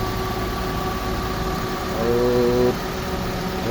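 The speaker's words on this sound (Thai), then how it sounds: "เครื่องยนต์ เดินเรียบ มาก นะ ฮะ" A used Mitsubishi Lancer Cedia engine idles smoothly at close range, a steady low hum with a short slight rise in pitch partway through, no speech.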